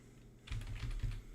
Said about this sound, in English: What I will do is quickly write